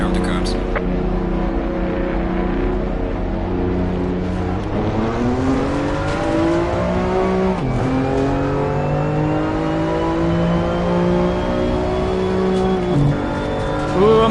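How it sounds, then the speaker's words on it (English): A BMW race car in a racing video game does donuts in the pit lane, its engine droning continuously and rising and falling in pitch through the turns, loud and near. "Doing donuts in pit lane."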